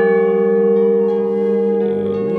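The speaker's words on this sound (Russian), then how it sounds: "Рядом с часами я произвожу звон, колокольный звон" A church bell in a tower rings once, near and loud, its strong ringing tone with layered overtones sustaining and slowly fading over the whole clip, with no talk.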